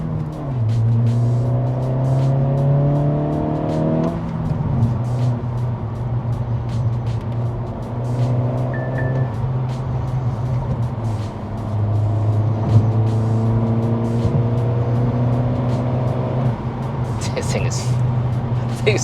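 A 2023 Acura Integra A-Spec with Mugen sport exhaust revs repeatedly from a low idle, the exhaust note climbing and falling in several pulls, heard from inside with occasional talking.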